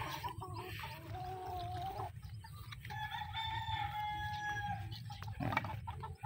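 A Boston Sweater gamefowl rooster crows nearby on a game farm in a long, strained call, with softer clucking and farmyard noise around it.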